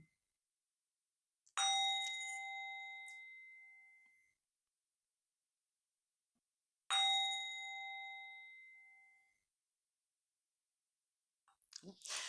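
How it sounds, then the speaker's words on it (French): Two separate strikes on a Tibetan singing bowl ring out clearly, each with a sharp onset and a long shimmering decay that fades over a few seconds, followed by a brief faint rustle at the end. "On va quand même faire les trois petits coups de bol tibétain."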